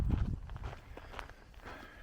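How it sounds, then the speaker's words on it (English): Footsteps on the Camino de Santiago between Sarria and Santiago de Compostela in the calm of early morning, steady crunching steps close by, fairly soft with no talking. "I hear my footsteps."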